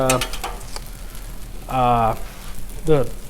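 Breakfast sausage frying on a Blackstone griddle with all burners on high, a constant crackling sizzle under someone talking in short bursts.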